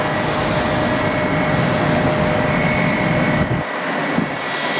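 An American Airlines Airbus A321 jet in from Dallas touching down at Atlanta airport, a loud steady broadband engine roar with a high whine, easing slightly near the end, heard from close range without talk.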